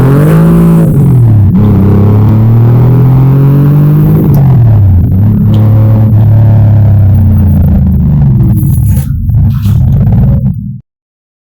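A 1967 Volkswagen Beetle with its original 1500 cc, 44-horsepower air-cooled engine revs loudly and close, its buzzy note rising and falling through several throttle blips before cutting off abruptly.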